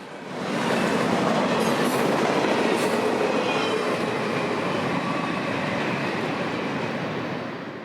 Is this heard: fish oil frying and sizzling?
no